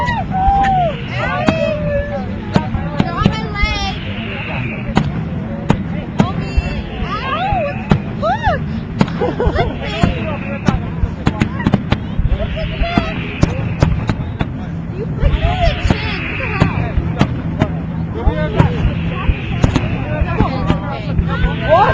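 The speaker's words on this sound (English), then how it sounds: "Invisible fireworks, get down!" Fireworks burst and crackle in a dense, ongoing barrage of sharp pops and bangs, some close and loud, mixed with shouting voices and outdoor commotion throughout.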